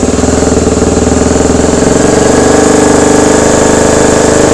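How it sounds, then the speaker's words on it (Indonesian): A motorcycle engine with a hard-starting problem being revved with the throttle, a loud, close, pulsing rumble that rises in pitch as the throttle opens. "coba gasin deh, bentar deh, sambil kita gas"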